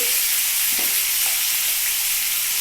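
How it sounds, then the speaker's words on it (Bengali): Potatoes fry steadily in a hot pan during preparation of a bottle gourd masala, giving a loud, continuous hiss that fills the whole stretch with no voices present. "এই আলুটা ভাজা হওয়ার জন্য দু মিনিট টাইম দিতে হবে"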